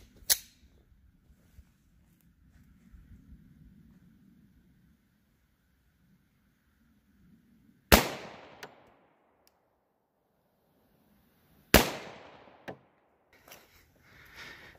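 Two loud .40 S&W pistol shots fired into 20% ballistic gelatin crack out several seconds apart, each with a sharp attack and a short decaying echo over a quiet background.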